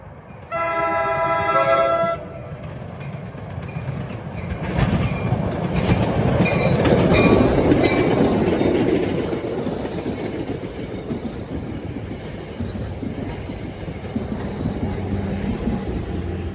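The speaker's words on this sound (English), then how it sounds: "Here comes 49, Hoboken to Middletown at 3:16." Passenger train 49, Hoboken to Middletown, on the former Erie main line in northern Bergen County, New Jersey, sounds a loud horn blast, then roars past close by with rumbling wheels and rhythmic clickety-clack over the rails.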